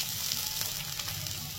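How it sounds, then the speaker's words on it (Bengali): Cubed potatoes fry in hot oil with a dense, steady sizzle, close and continuous throughout, with no voices. "আলুগুলোকেও ভেজে নেবো আমি।"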